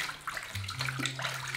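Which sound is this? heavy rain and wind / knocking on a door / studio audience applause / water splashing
water splashing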